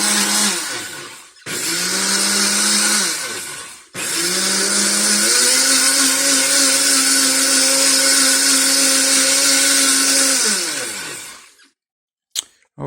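Black & Decker quiet blender running empty, starting in two short bursts and then a long steady whine with a loud motor drone that shifts pitch partway through before winding down and stopping.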